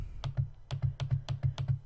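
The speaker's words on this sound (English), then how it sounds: "So here I'm gonna click on my trackpad." A laptop trackpad being pressed repeatedly, about eight sharp close clicks in an uneven rhythm, quiet and alone with no voices.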